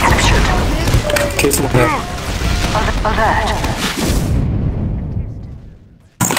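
Sharp gunfire bursts from a shooter video game crack out in quick succession under excited talk, then fade into near silence before one final loud hit.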